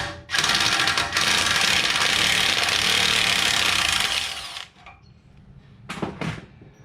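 An impact wrench or power tool loosens bolts on a Geo Tracker during a lift kit install, a loud continuous whirring burst for about four seconds followed by quieter clunks and short rattling bursts.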